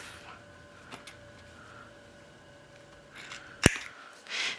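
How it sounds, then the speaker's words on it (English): Scissors trim the cuff of a fine-fabric shirt sleeve with one sharp, close snip, surrounded by quiet handling rustle. "I'm gonna cut away, trim away first some of the cuff."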